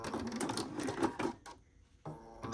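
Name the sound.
sewing machine backstitching a seam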